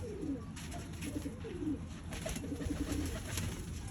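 Pigeons of a prized Punjabi breed coo repeatedly at close range, a steady series of soft, throaty calls over low background noise.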